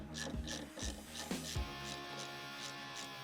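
A hand ratchet clicks in quick bursts, loosening headlight bolts on a crashed Aston Martin DB9, each run of sharp pawl clicks close up and fairly quiet, with brief pauses between strokes.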